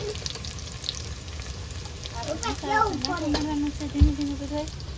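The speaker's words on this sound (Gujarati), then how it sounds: "ડુંગળી ને લીલું મરચું નાખી દીધું છે" Onion and green chili fry in a pan for a crab and lobster dish, a steady close sizzle with a few louder crackles and a brief knock near the end.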